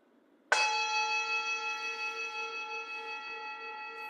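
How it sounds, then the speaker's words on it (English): A meditation bell struck once, ringing out with a bright attack and a long, clear, slowly fading tone with steady overtones, alone in a quiet room. "First bell calling us together."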